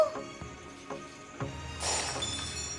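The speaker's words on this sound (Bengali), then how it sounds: "ফাটল হয়েছে যে, বড় ফাটল।" A clay cooking pot cracks in a cartoon folk tale: a few soft knocks, then a sudden bright crack that spreads into a brief crumbling shatter, close and fairly loud.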